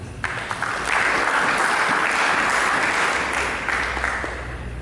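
A church congregation applauds during a sermon, a dense wash of clapping that swells after the first second and holds steady, fairly loud.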